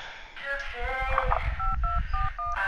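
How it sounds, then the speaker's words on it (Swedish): A telephone dials a number during an emergency call in Stockholm, sounding a quick run of crisp touch-tone beeps of varying pitch over a low background rumble. "Vi lägger på och ringer upp bara för att bekräfta."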